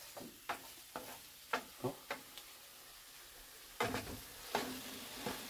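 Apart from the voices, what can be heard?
shallots, garlic, chilies and mushrooms sautéing in a pan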